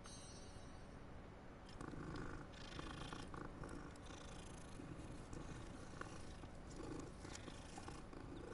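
A cat purrs steadily and softly as it is petted in the Hogwarts Legacy video game, a continuous low rumble with no talk over it.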